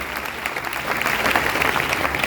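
Loud applause from an audience at a DXN gathering honoring a guru mother and father, a thick continuous roar of clapping that swells slightly midway and holds steady.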